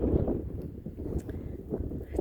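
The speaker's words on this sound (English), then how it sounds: "It's a bit windy up here," Gusty wind buffets the microphone on an exposed mountain summit, a steady low rumble with fluctuating gusts throughout and no voices.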